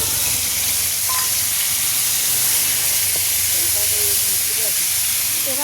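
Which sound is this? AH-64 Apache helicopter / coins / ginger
ginger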